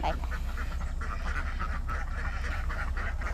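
Ducks quack repeatedly on a Thai farm where ducks and chickens are kept, mixed into a dense, continuous outdoor din with steady background noise.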